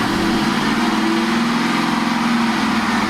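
An LS-swapped Toyota engine runs at a steady idle just after an axle repair, a continuous loud droning rumble with no break across the clip.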